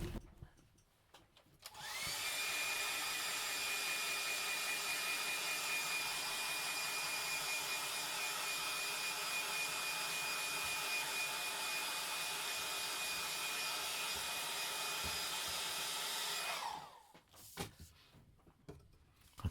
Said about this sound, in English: back to the hairdryer.